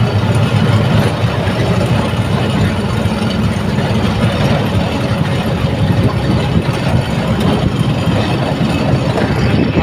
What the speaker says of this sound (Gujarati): આવી ટ્રેન નીકળે